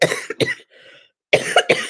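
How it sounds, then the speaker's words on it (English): A person coughs twice in quick, harsh bursts close to the microphone during a live podcast recording, with a short faint throat sound between them and no talk. "my disgusting cough is not getting edited out"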